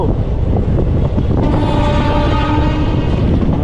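Southern Railways diesel locomotive passing close by, a loud continuous rumble with a rising tonal engine or horn component in the middle, with wind buffeting throughout.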